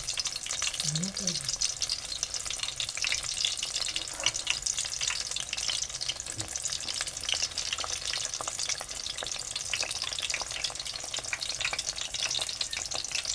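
Ridge gourd bhaji frying in oil in a pan and being turned over, a continuous close sizzle with scraping stirs and utensil clinks scattered through, a brief voice-like tone near the start.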